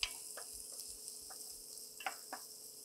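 Tomato soup ingredients being stirred in a pan, with soft scraping strokes over a steady faint sizzle and a few brief clicks of the utensil against the pan.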